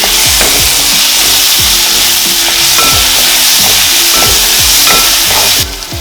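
Green chili and tomato go into tandoori chicken masala gravy frying in a pan, giving a loud continuous sizzle with repeated rhythmic scraping strokes of a spoon stirring throughout, and no voices.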